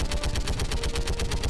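Garrus's gun in Mass Effect 3 firing a rapid, unbroken stream of loud automatic shots at an even rhythm, close and continuous throughout.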